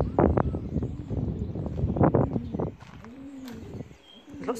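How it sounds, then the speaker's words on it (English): Pigeons coo inside a derelict fort, with soft repeated coos close by, set against faint wind and a brief spell of louder bursts early on. "There are pigeons in there though."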